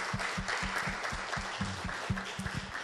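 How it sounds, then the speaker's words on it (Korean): A church congregation at an all-member retreat applauds in thanks; fairly quiet, steady clapping with a low rhythmic thumping underneath, continuous through the short clip. "우리 하나님 앞에 감사의 박수 올려드리겠습니다."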